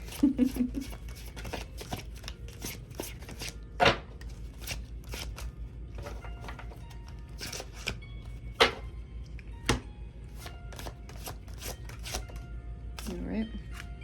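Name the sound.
shuffling large tarot cards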